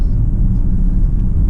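Road traffic of passing cars and motorcycles: a loud, steady low rumble of engines and tyres, close by and continuous throughout, with no speech over it.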